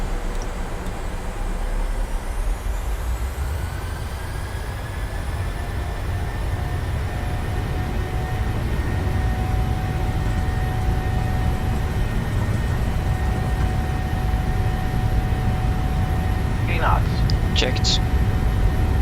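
Airliner jet engines at takeoff thrust in a PMDG simulation in MSFS2020, a steady, loud broadband roar with rising whine tones held throughout, with brief clicks near the end.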